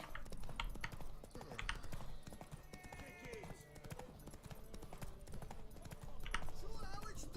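Horse hooves clip-clopping in The Witcher 3 video game, a steady trotting patter of close hoofbeats with a short whinny, faint overall, with game ambience underneath.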